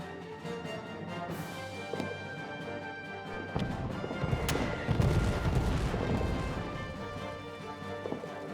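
Cannon and artillery fire in a World War I trench video game, heard as a dense, rumbling barrage of booms and crashes that grows heavier midway, with sharp distant reports scattered over a steady background.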